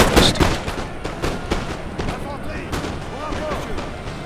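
Musket volleys and artillery fire in a Napoleon: Total War multiplayer battle on a pyramids map, a dense burst of sharp shots early then scattered cracks and distant booms, with voices talking over the fighting.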